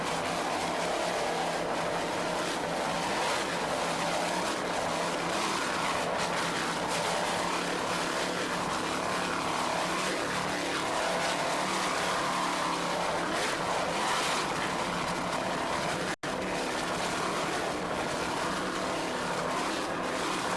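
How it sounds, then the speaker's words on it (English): Offshore racing powerboat powered by Stotler racing engines, competing in an offshore world championship race off Fort Lauderdale in 1993 on bumpy water; a steady, loud, continuous engine roar runs throughout with wind and water rush. "Frank Kerbeck doing a fine job throttling those Stotler racing engines."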